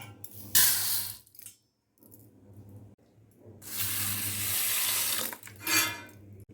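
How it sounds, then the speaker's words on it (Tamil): Pearl millet being washed in water by hand, with bursts of sloshing and rinsing splashes separated by quiet pauses, fairly close and without any talk. "இது 2 வாட்டி கழுவிட்டு முழுகிற அளவு தண்ணி விட்டு ஊற விடலாம்."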